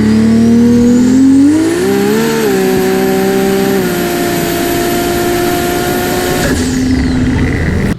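A 1250 horsepower all-wheel-drive IS300 with a 2JZ engine on 50 psi of boost launches hard on a street pull, its engine screaming up through the revs, loud and close, then cutting off abruptly near the end.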